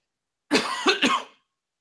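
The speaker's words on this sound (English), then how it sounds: "I'm going to cough at some point soon." A single close coughing fit of three quick, rasping bursts from one person in a quiet room, followed by silence.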